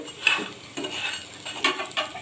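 Masoor lentil fritters frying in a pan, with soft sizzling broken up by a few stirring and scraping sounds from a utensil, close and fairly quiet, with no talking.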